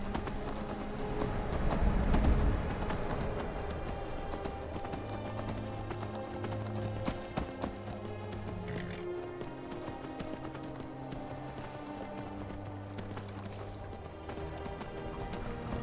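Horse hooves galloping in the Skyrim Special Edition game, a steady rapid clip-clop running throughout over a layer of background game music, with a brief louder burst near the start.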